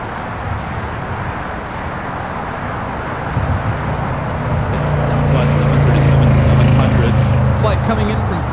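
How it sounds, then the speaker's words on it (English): A Spirit Airlines Airbus A321neo takes off at LAX, a low engine roar that builds and grows louder partway through over steady airport and traffic noise, with voices talking in the background. "That is Spirit Airlines 1273 taking off to San Antonio on the"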